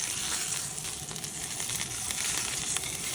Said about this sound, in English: Turn it again, let it sear.